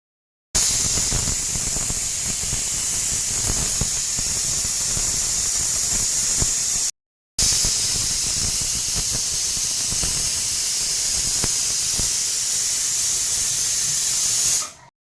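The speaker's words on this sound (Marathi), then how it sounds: "आणि कुकरच्या 2 शिट्ट्या घेऊ." A pressure cooker boiling eggs with a little salt gives off a loud, steady rush of escaping steam, a sharp hiss that runs for several seconds, breaks off briefly, then resumes just as strongly before cutting out.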